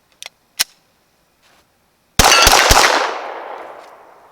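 A few faint clicks, then a sharp, loud Glock 17 pistol shot outdoors in snow with two quick follow-up cracks, trailing off in a long decaying echo.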